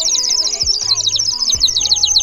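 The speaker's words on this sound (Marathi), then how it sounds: "शिटी शिटी एक छान मातीची शिटी आहे, चिमणी त्याच्यात पाणी टाकायचं" Water-filled clay bird whistle, a bubbling, warbling trill of rapid chirps that runs continuously and loud, with a couple of low thumps beneath it.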